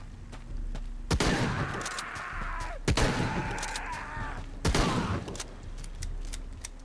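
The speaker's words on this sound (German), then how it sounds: "Diesmal waren es 3 Schüsse." Three loud gunshots ring out from the Shadow of the Tomb Raider video game, spaced about two seconds apart, each a sharp crack trailing into a long echoing rumble as if fired inside a cave.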